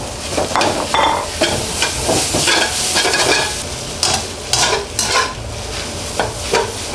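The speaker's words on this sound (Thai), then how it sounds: "แล้วก็ผัดต่อให้ผักสลด อ่ะพอได้ประมาณนี้นะคะ ใส่เส้นได้เลย" Vegetables for vegetarian mee sua stir-fried in a hot pan until wilted, a loud continuous sizzle under quick, repeated spatula scrapes and tosses, close up with no voices.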